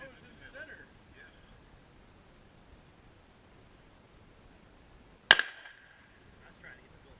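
A single sharp shot from a Glock 34 pistol cracks out loud and close, followed by a brief ring, against quiet outdoor background.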